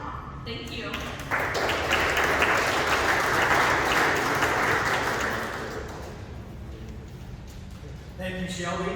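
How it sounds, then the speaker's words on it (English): Audience applause for the speakers at a football talk event, a steady wash of many hands clapping that swells in after a moment, holds for several seconds, then tapers off before a voice resumes. "if you please give a round of applause to our speakers and to Mark"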